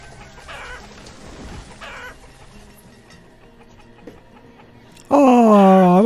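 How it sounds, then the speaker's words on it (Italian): Hens cluck in the village-building game Banished, with faint clucks early on under low ambient farm noise, then a loud, close burst of squawking rooster-like calls at the end. "Oh, guarda quante galline."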